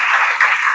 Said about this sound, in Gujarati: એમના માટે પણ જોરદાર તાળીઓ થઈ જાય